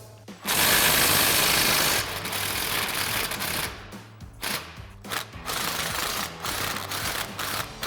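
An impact wrench with a 15 mm socket and extension runs out a front knuckle bolt on a 2016-2024 Camaro, a loud hammering burst up close followed by several shorter rattling pulses.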